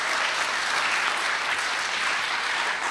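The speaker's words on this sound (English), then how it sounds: "Yes, applause." Steady, dense audience applause fills the room at a Persian Rumi poetry performance, a continuous even wash of many hands clapping at constant loudness throughout, with no voices breaking through.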